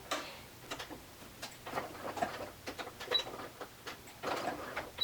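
A home sewing machine stitches fabric for a button-front dress, heard as faint, close mechanical ticking in uneven quick bursts with no voices.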